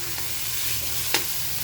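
Pork being stirred with a seasoning cube in a pan while cooking laing, a steady close sizzle with a soft scrape of the utensil near the end.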